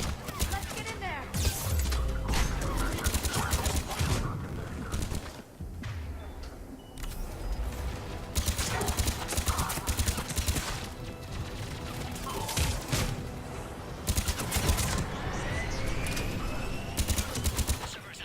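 Gunfire crackles in bursts at a checkpoint in Mass Effect 3, scattered shots and crashes recurring through a dense game mix while a voice talks over the action.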